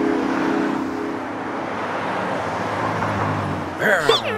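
Cartoon road scene with heavy traffic, a steady wash of car engines and passing vehicles filling the whole stretch, close and loud, with a brief burst of another sound near the end.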